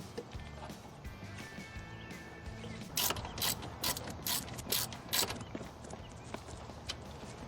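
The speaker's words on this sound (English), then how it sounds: "Just get all three of them in first and then we'll tighten them down." Alternator bolts on a Ford Bronco are tightened with a ratchet, a series of quick clicking pawl bursts in the second half, close but fairly quiet over background hum.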